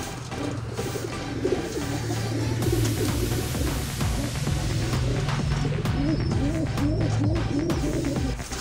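Soft, repeated cooing of a pigeon squab rises and falls close by, layered over a steady background hum and faint bird chatter.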